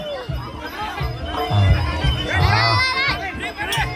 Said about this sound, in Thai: ไปเอาเสียงเชียร์ยังรอครับยกสี่ยกสำคัญ